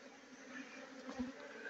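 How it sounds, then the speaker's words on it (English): African honey bees buzzing angrily around a hive being opened for honey harvesting, a continuous close drone that swells and fades as individual bees pass near, with no talking. "this is the African bee. You can see how angry it is that I'm invading its space."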